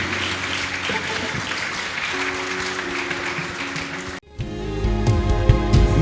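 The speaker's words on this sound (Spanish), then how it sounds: "Démosle un aplauso al Señor." A church congregation applauding during a service, a steady roar of clapping that lasts about four seconds, then gives way to low instrumental music and a rising rumble.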